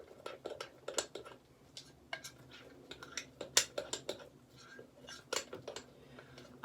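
Utensil scraping and clinking against a bowl while mixing sticky slime ingredients, a quiet irregular series of taps and scrapes with small pauses between strokes.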